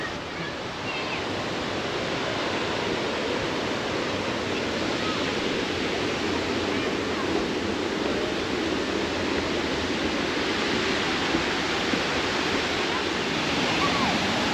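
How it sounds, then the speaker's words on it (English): Water at Hamlin Lake, Ludington, Michigan roars and rushes in a loud, unbroken wash of noise, steady and close for the whole stretch. "Now you can really hear it roar. Listen to that water."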